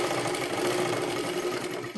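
A sewing machine runs a rapid, even stitching whir along a double-folded fabric strip for a baby girl's frock, close and steady without pause and with no voices.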